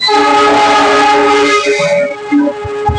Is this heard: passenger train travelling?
yes